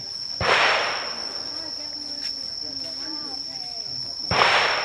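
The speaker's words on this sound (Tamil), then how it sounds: "கன் ஷாட்ஸ் நடந்துட்டு இருக்கு, உள்ள சவுண்டு கேட்டுட்டு இருக்கு" Gunshots at the Cu Chi Tunnels shooting range ring out as two sharp, loud cracks a few seconds apart, with a steady insect drone and faint voices in between.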